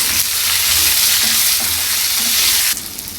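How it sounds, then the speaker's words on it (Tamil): Onions and tomatoes sauté for mutton gravy, a steady loud sizzle with scraping stirs running throughout, dropping abruptly quieter near the end. "இது எல்லாமே சேர்த்து கொஞ்சம் நல்லா வதக்கிக்கலாம்."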